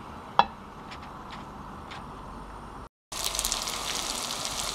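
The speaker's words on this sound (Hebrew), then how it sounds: "תהליך הבא, טיגון בשמן עמוק." Breaded cigar rolls filled with meat deep-fry in oil with a faint, steady sizzle. A sharp clink sounds early on, then after a brief cut the sizzling returns louder.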